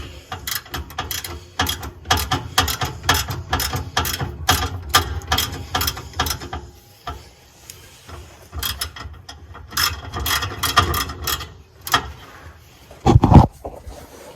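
Repeated clicking of a ratchet wrench loosening starter bolts on a 1995 Nissan D21 V6 automatic, a steady run of close ratchet strokes in bursts, pausing midway, ending with a louder clank.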